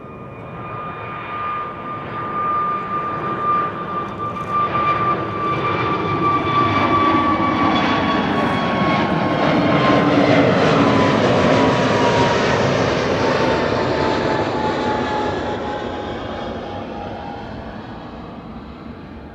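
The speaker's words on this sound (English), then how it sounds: "this is KLM flight 1199 to Oslo" A KLM Airbus A321neo departs Amsterdam Schiphol, its jet engines swelling into a loud, steady roar with whining tones that peaks midway and slowly fades as the airliner climbs away, heard alone.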